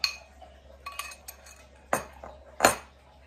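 A large cooking pot being swapped in a home kitchen for a dried-fish curry, giving a few sharp metallic clanks and clinks, two louder knocks near the end, with light handling sounds in between and no talking.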